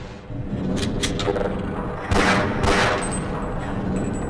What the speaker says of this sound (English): Shooting that caused the track to change, which is very handy.